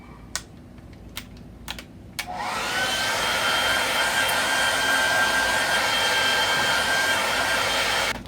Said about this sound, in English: you can use a hairdryer to dry it